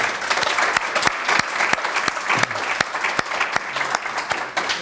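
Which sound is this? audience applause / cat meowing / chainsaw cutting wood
audience applause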